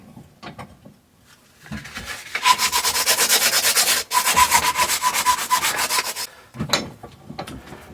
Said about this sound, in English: Wrapping some sandpaper around it.